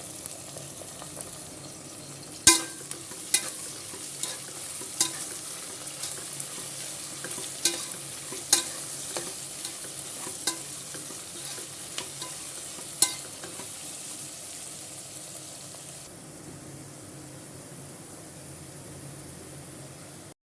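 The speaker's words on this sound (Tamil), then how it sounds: "இந்த ஸ்டேஜில் வெங்காயம் சேர்த்துக்கலாம் பச்சை மிளகாய் சேர்த்து நல்லா வதக்கிக்கலாம்" Onion and green chili sautéing in hot oil in a pot for chicken biryani: a soft, steady sizzle broken by sharp clacks of a ladle stirring, moderately close and fairly quiet.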